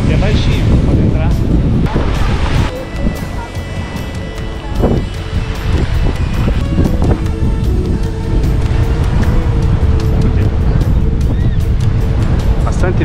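Strong wind roars across a sheltered, shallow beach behind a hill, battering the microphone in loud, sustained gusts with surf and faint voices mixed underneath.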